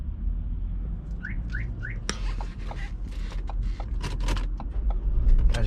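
A StarLine S9 alarm on a 2016 Ford Transit Connect is disarmed with three quick rising chirps, followed by scattered clicks and mechanical knocks over a low steady hum.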